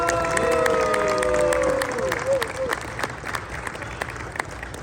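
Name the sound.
audience applause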